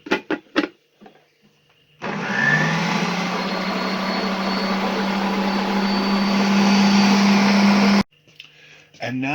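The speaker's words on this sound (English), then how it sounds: "Now I'm going to turn my mixer on once I get the lid on here" An electric stand mixer whirs steadily at close range as it works a holiday stollen dough with raisins and cherries, running alone for about six seconds between brief bits of talk before and after.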